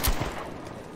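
Gunfire bursts in the video game Rise of the Tomb Raider: a heavy shot at the start, a softer one shortly after and another sharp blast at the end, over a steady background rumble.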